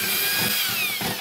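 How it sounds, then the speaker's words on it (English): A power drill bores a hole for a grab bar through a fiberglass shower flange into the stud, a loud, close, continuous grinding whine with no pauses. "I'm going to drill that hole and then put that screw in."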